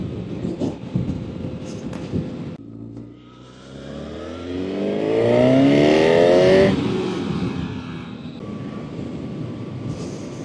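A 2025 Honda CB1000 Hornet motorcycle engine with the standard exhaust is revved hard to high rpm. It gives a loud, rising, snarling roar that peaks and then falls back as the bike rides on.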